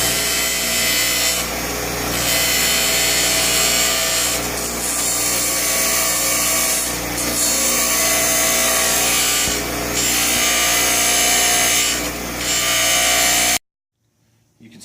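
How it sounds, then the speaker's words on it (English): A grinder works down a plastic fitting for a high-level sensor, with a loud, continuous abrasive whir that surges at several regular intervals and then cuts off abruptly near the end. "So we'll go ahead and grind this down."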